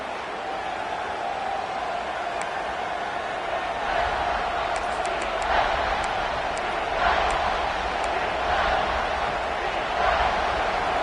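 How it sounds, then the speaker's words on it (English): A large stadium crowd at an Auburn football game roars and murmurs steadily, swelling slightly in places, with faint whistles and shouts standing out from the din. "This crowd is trying to inspire this defense to make a big red zone stop"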